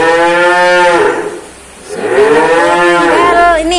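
A calf moos loudly and close at a cattle market, one long harmonic bellow followed after a short pause by a second call, with no talk over it.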